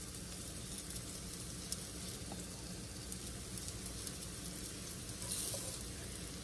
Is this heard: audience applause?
no